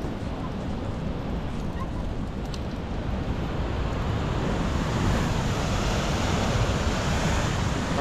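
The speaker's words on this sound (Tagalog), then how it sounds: "Ang lakas ng alon" Strong ocean waves at Pacifica pier, a loud continuous roar of surf mixed with wind noise, with no distinct individual breaks.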